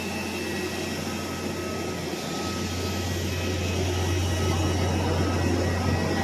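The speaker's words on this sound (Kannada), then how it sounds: "ಈಗ ಏನು ಫ್ಲೈಟ್ ಲ್ಯಾಂಡಿಂಗ್ ಆಗಿದೆ" Steady jet engine roar with a low hum, rising slightly toward the end, heard from nearby with no voices, as an airplane lands at Nagpur airport.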